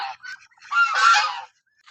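A goose gives a few short honks followed by one longer, louder honk nearby at night, then falls quiet.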